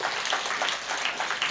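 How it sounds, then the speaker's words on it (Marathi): Applause from a school audience for parents who attended meetings: dense, steady clapping from many hands, fairly loud and continuous throughout, with no voices over it. "या 5 पालकांसाठी एकदा जोरदार टाळ्या वाजवा"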